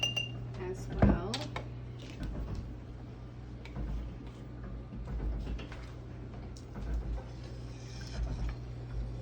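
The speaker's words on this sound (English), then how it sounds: "You want to be stirring your milk and heavy cream mixture occasionally" Milk and heavy cream mixture stirred in a pot on an electric stove while making cream cheese, with a metal utensil clinking and scraping against the pot in scattered taps over a steady low hum.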